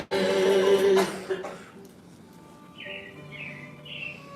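After a loud throat-clearing cough, a few short high robin chirps repeat faintly in a quiet space, in the Carousel of Progress show at Magic Kingdom.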